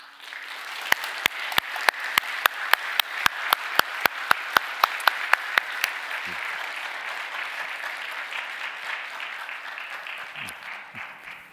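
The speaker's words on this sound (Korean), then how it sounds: "우리 축복하는 뜨거운 박수를 좀 보내주시면 좋겠습니다" A church congregation at a Sunday worship service applauds newly elected officers as they bow; one sharp, close clapper beats a steady rhythm at first, then the crowd's applause continues as a warm wash, with a brief voice near the end.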